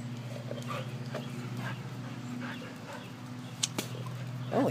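A dog in a backyard gives soft whimpers and low rumbling growls over a steady low hum, with a brief sharp yelp near the end; close and fairly faint, no talking.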